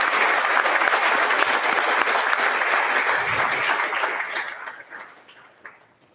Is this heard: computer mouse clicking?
no